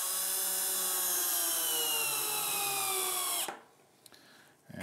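A power drill runs continuously at a steady high whine, driving 16mm 5-gauge countersunk wood screws into a sewing machine stand, then stops abruptly with a few faint knocks afterward.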